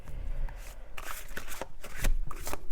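Tarot cards being shuffled by hand, a run of quiet, close riffling and slapping sounds in irregular bursts, with no talking.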